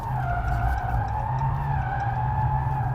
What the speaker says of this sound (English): It's not a drift machine, although it does drift rather well.